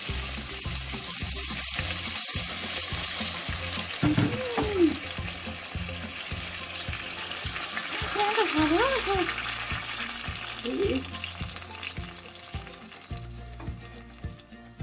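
Strained tomato pours into a pan of frying beef rolls (niño envuelto de bistec de res), giving a steady close-up sizzle with bubbling and a few stirring scrapes.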